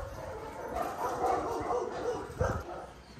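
A dog barks and yips in short bursts at middle distance, with a louder yelp near the end, heard through steady rain on a January day.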